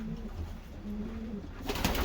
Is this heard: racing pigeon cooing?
yes